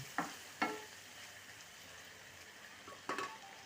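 Quiet background sizzle of beef stir-frying in a pan with a few sharp scraping stirs, two close together early and another near the end.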